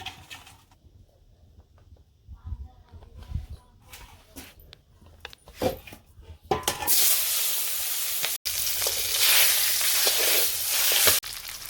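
Fish heads frying in hot oil, first with quieter scattered stirring and clatter, then a loud, steady broadband sizzle from about six seconds onward, with a few sharp pan knocks.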